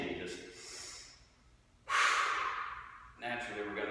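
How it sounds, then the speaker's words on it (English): Strong, forceful breaths drawn in through the nose during a plank exercise, with a long sharp hissing inhale in the middle between softer breaths, close and loud. "Breathing strong in through the nose. Exhaling like you're exhaling out through a straw."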